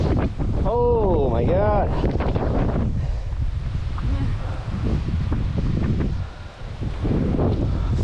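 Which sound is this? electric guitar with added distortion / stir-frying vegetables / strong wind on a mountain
strong wind on a mountain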